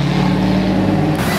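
A Ford Mustang engine is heard close up and loud at a sports car meet, a steady low rumble that holds through the moment with no talk over it.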